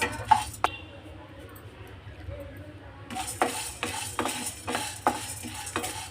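Chana dal fries on low flame in a pan, with repeated scraping stirs of a large spoon and light clinks over a soft sizzle, busier in the second half.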